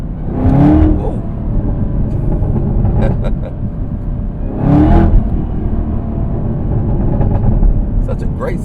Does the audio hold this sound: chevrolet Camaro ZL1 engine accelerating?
yes